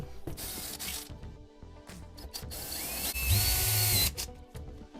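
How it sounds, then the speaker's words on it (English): Power drill boring holes into a garage wall for drywall anchors, heard as loud, close bursts of whirring and grinding with short pauses between them and a strong sustained run near the end. "I'm going to drill holes and put in some drywall anchors"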